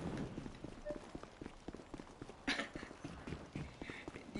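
Hooves clip-clop in an uneven, trotting rhythm from a horse in GTA 5, fairly quiet and steady with a few sharper knocks, carrying on throughout.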